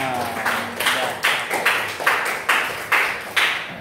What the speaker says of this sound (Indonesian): Aplaus untuk kita semua.